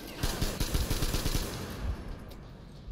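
Rapid, evenly spaced shots from a wind-up gun in Metro Exodus rattle off in a quick string for about a second and a half, then trail into a quieter tail before a fresh thump at the end.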